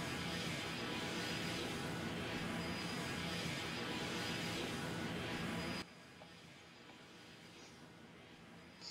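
The engines of an Antonov An-124 cargo plane in the Roblox game Aeronautica roar as a dense, steady drone that drops suddenly to a quieter, lower level about two-thirds of the way through.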